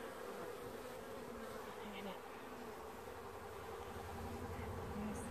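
Honeybees swarming around an open hive during a heat wave, a dense continuous buzz from many insects at close range, fairly quiet and even throughout with no speech.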